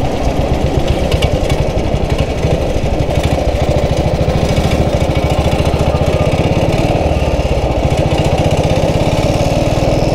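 A 1947 BSA BB31 British motorcycle on a test ride, its single engine thumping in a loud, rapid, steady low pulse that holds close and continuous with no talk over it.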